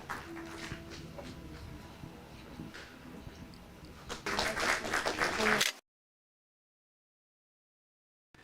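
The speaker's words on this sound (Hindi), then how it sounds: "जोरदार तालियां उनके लिए बजा दीजिए" Applause breaks out in a television studio for a farmer winning a quiz cup, moderate clapping that swells louder near the end before cutting abruptly to silence.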